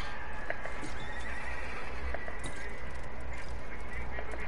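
A horse whinnies over a constant dense wash of noise in the video game Realm Royale, with clip-clop hooves and scattered honking bird calls in the mix.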